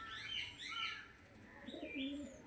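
A pair of Kalshira pigeons coo softly and low in the distance, with faint chirps from other birds drifting above a quiet, airy background.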